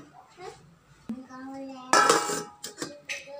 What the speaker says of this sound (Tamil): இப்போ நம்ம ஒரு மூடி போட்டு குழம்ப கொதிக்க விட்டுறலாம்.